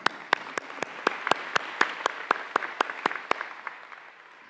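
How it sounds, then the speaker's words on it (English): Sparse, scattered clapping from a graduation audience, a handful of distinct sharp claps spaced apart, thinning out toward the end. "if you want to clap, go ahead."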